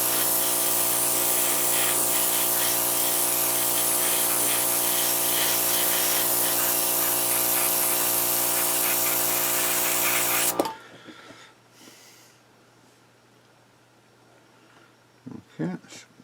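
An airbrush sprays a light coat of paint onto a 1/35 scale HobbyBoss German WWII Panzer I Ausf C model tank, a loud steady hiss with a tonal compressor hum that cuts off abruptly, leaving quiet room noise.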